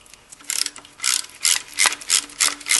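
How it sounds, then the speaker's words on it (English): A socket ratchet backs out the belt tensioner adjustment on a Toyota engine, clicking in about six quick, evenly spaced strokes, each a short burst of sharp ratcheting close to the listener. "you just put a socket onto the adjustment, and you just back that out"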